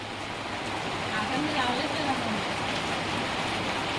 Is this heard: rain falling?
yes